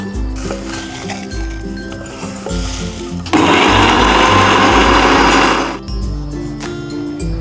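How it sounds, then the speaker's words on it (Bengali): Electric mixer grinder pulverizing roasted spices for olive pickle, a sudden loud whirring grind that runs for a couple of seconds and stops, between clinks and a rhythmic mechanical hum. "আমি এখন এটা মিক্সিতে গুঁড়ো করে নেব।"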